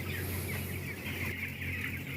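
Chickens clucking inside a colony cage coop on a poultry farm, a dense, continuous murmur of many birds over a steady background hum, fairly distant and without talk.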